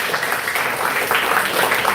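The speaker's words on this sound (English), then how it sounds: "A big round of applause for class 9C" Students and staff at a school special assembly applaud class 9C, a dense, even wash of many hands clapping together in a large hall, continuous and fairly loud for the full two seconds.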